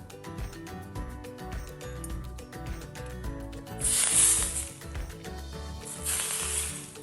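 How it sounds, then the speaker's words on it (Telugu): Hot oil poured into a Maddur vada flour mix, giving two bright hissing sizzles of a few seconds each, close by, over steady background music. "ఇందులో కొంచెం వేడి నూనె వేయాలి"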